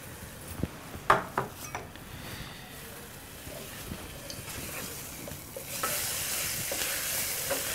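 Garlic and onion paste sautéing in a little oil for a prawn malai curry, with light utensil clinks and stirring early on, then a brighter, fuller sizzle swelling up for the last couple of seconds.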